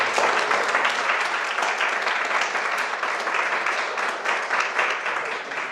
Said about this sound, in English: Big applause once again for that.